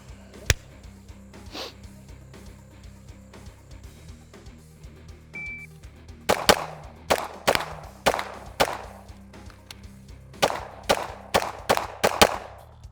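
Pistol shots in a timed shooting drill: one sharp early shot, then a rapid string of loud cracks with quick splits, a short pause, and another fast string, on an outdoor range.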